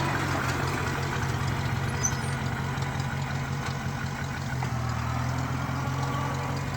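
A little International Farmall Cub tractor engine runs steadily at idle nearby, giving a continuous low, even chugging hum with a slight rumble and no voices over it.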